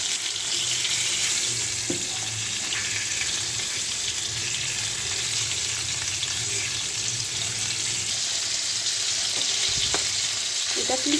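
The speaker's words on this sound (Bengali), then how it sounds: "ইলিশ মাছ কিন্তু কখনোই বেশি ফ্রাই করা যাবে না, জাস্ট হালকা করে ফ্রাই করতে হবে।" Hilsa fish pieces fry lightly in hot oil, giving a steady, close hiss that holds for the whole stretch, with a few faint knocks of handling and no voices.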